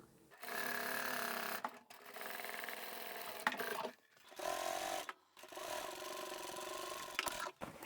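A sewing machine stitches a zippered fabric bag in several steady runs of a few seconds each, separated by brief pauses, loud and close with no talking.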